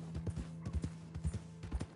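Horse hooves clip-clop at a steady walking rhythm in the Red Dead Redemption 2 video game, several close, clear hoofbeats with a faint steady hum beneath and no talking.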